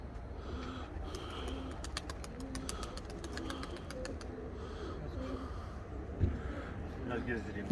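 Purebred pigeons from a 35-year line coo softly and repeatedly at close range, the low calls rising and falling amid other birds and faint ambient noise.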